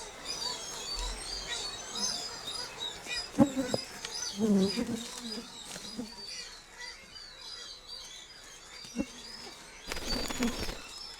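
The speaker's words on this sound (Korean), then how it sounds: "슴새들의 울음소리가 절정을 이룬다." Streaked shearwaters call at night around a nesting colony, with scattered wailing and crooning cries rising and falling amid soft chirps and outdoor background noise.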